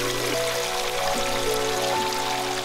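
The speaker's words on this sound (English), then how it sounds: "Sitting beside this waterfall and reading books, it seems like we are sitting in the nature" An indoor decorative waterfall fountain in a DIY-decorated home sends a steady stream of running, splashing water, heard close and continuous beneath soft background music.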